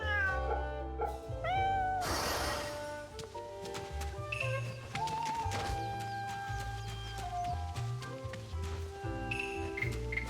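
Cat meowing in the Fate/Samurai Remnant video game, a few clear meows over a busy bed of game music and effects.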